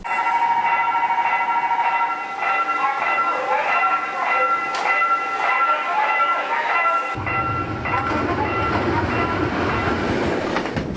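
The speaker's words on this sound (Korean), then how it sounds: "하루 9차례 열차가 오간다는 대야장 앞 기차 건널목" A Mugunghwa train on the Janghang line rolls past a level crossing in front of a rural market, with a steady rumble and rhythmic clickety-clack of wheels over rail joints. A ringing crossing bell runs beneath at first, then fades as the wheel noise dominates.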